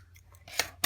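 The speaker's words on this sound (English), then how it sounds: "go ahead and cut the thread" Scissors snip through sewing thread in two quick, close, crisp cuts less than a second apart, faint and with no talking.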